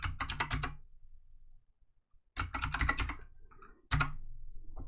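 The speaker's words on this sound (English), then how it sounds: "and then I can type the answer." Fast typing on a computer keyboard, two bursts of quick, close keystrokes separated by a short pause, with a sharp key press starting a final stretch of clicking.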